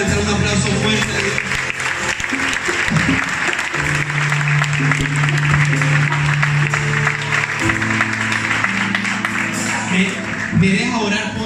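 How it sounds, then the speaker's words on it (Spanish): A church congregation applauds loudly and continuously, a dense close wash of clapping with music playing underneath and a voice over it. "¿Será que le puedes levantar un aplauso fuerte a Dios?"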